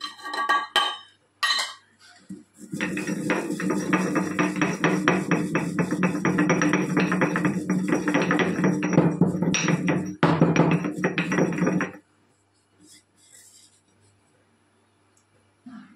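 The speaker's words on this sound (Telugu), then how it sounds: "ఈ వేయించిన జీలకర్రని ఇప్పుడు దీంట్లో వేసుకొని దంచుకోవాలి" Dry-roasted cumin seeds ground in a mortar, a dense run of rapid rubbing, crunching strokes lasting several seconds after a few scattered knocks, then near silence.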